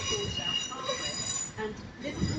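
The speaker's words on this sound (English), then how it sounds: "arriving now is going to be the 1307 Transpennine Express service to Liverpool Line Street" A Transpennine Express train pulls into Manchester Piccadilly station, with a steady rumble, faint wheel squeal and tonal electrical hum filling the platform while a voice talks over it.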